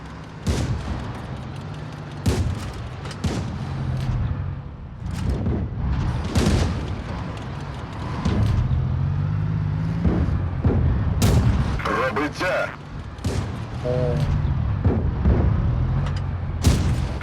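In the WoT Blitz video game, tank cannon fire and shell hits from an M48 Patton battle sound as sharp, loud booms about every one to two seconds, with a rumbling, crackling battle background.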